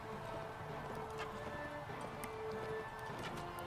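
Steady clip-clop of hoofbeats from a running horse in the video game Mount & Blade: Warband, fairly faint, with a low rumble and occasional clanks in the background.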